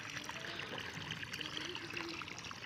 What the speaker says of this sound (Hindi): अभी ये पानी जा रहा है जल्दी जल्दी से